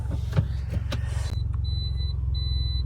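A car idles steadily with a low, rumbling engine, a few clicks and knocks early on, then short repeated electronic beeps.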